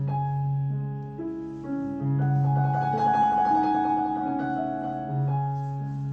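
Soft, slow piano music in the style of Chopin, with gently sustained, flowing notes, plays alone in a dreamy, romantic style.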